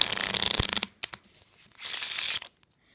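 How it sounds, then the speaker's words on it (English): A nearly new deck of playing cards gets shuffled by hand: a dense riffling burst, a few sharp taps and snaps, then a second shorter riffle before everything goes quiet. "So I'm just gonna do a shuffle."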